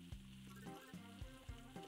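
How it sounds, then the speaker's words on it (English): Burger patties fry on a griddle in the Godlike Burger video game, a steady sizzle under repeated low thuds and short tonal cooking chimes in a quick, regular rhythm. "Just keep on frying the patties."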